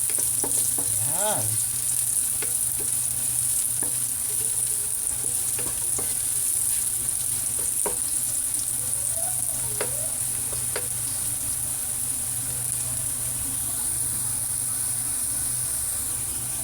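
Garlic frying and being stirred in a pan for chicken intestine adobo, a steady loud sizzle with occasional scraping stir strokes, and a brief spoken word near the start.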